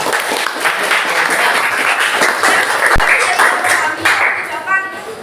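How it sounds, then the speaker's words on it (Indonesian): A classroom group claps for a presenting student team during a teacher-training lesson, loud and sustained across the whole span, with voices mixed in and a sharp knock near the middle. "Tepuk tangan untuk kelompok 8."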